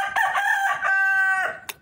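Chickens on a farm, a rooster giving one loud, close crow with harmonic tone that rises and sustains, then ends with a short cluck.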